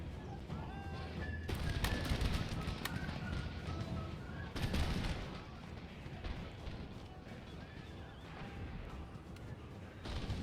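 Artillery canister fire in a Napoleonic-era battle in Empire Total War, heard as a dense, rolling clatter of cannon and musket shots with sharp bursts near the start and middle over continuous battlefield noise.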